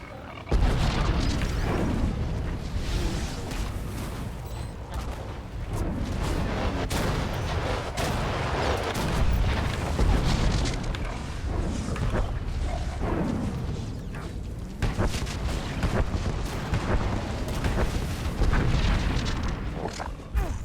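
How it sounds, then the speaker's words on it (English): Bombing run explosions in Star Wars: The Old Republic video game, a continuous roar of heavy booms and rumbling blasts, loud and dense throughout with no pause. "Coming in for a bombing run."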